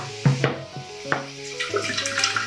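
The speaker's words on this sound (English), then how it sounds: "Bubbles, bubbles, bubbles, and more bubbles." A soft drink fizzes and bubbles after fairy dust and magic pills are dropped in, with close crackling bursts and liquid popping over a tonal background.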